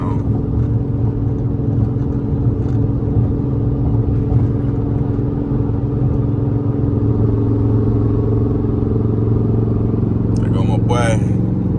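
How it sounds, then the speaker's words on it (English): A Dodge SRT8 with a 392 engine idles rough in a steady, loud low rumble with an uneven, shaking pulse throughout; a brief higher sound flickers near the end. "cause you know the engine not running smooth right now"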